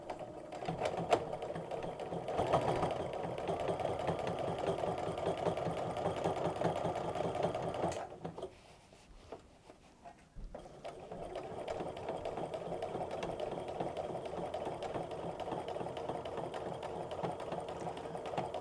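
A long arm quilting machine stitches straight ruler-work lines in a steady rapid needle rhythm, pausing briefly near the middle before resuming at the same even pace.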